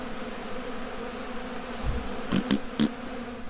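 Honey bees buzz during a hive removal from behind a chimney at a state park, a faint steady drone broken by a few brief, sharp knocks near the end.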